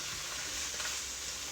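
Onions and green chilies sauté in a hot pan with a steady, close hiss of sizzling oil that stays even and unbroken throughout.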